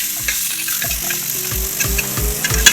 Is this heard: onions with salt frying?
yes